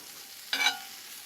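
A brief soft sizzle as sugar is tossed into onions frying in a pan, a short hiss rising over a quiet background.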